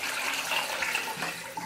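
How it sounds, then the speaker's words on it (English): Water from an apple cider vinegar rinse of braiding hair is poured out of a container, a steady loud splashing gush lasting under two seconds. "I'm going to pour this water out."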